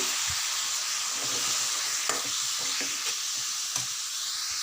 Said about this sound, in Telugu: ముక్కలు ఒక 2-3 నిమిషాలు బాగా వేపుకోవాలి